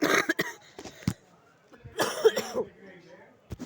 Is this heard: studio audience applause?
no